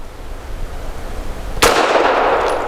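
A Grand Power LP380 pistol fires a single 102 grain brass jacketed hollow point round with nickel plated casing, one sharp loud report partway through, ringing out briefly over quiet background.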